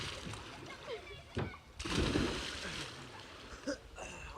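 A person cannonballing into water, one big splash and churning water near the middle, with excited voices and children calling out before and after.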